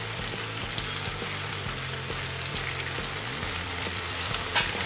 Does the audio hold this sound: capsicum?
yes